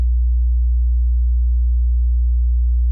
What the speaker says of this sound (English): Sine is the most usual form that we generally use, right? So that's why I took sine wave.